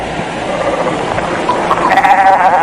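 Sheep bleating in the 1987 animated film The Man Who Planted Trees, wavering calls rising out of a steady background and growing louder toward the end.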